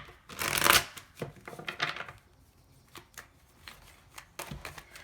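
A deck of tarot cards being shuffled close by: a loud riffling burst at the start, then softer flicks and taps of cards settling, with quiet gaps between.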